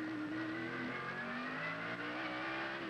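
A 1990 Trans-Am race car engine screams close by, its pitch climbing and dropping sharply as it shifts up through the gears before easing off under heavy braking.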